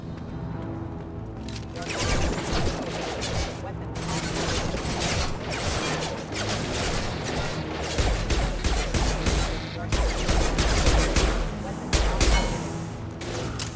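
Gunfire in the video game Mass Effect 2, dense bursts of shots and impacts crackling continuously through a loud combat mix, with voices speaking over the action.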